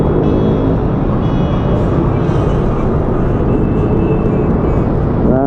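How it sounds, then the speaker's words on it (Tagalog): Heavy road traffic on Commonwealth Avenue makes a loud, constant roar of engines and passing vehicles. It is close and unbroken, with no clear talk. "Traffic, traffic, traffic."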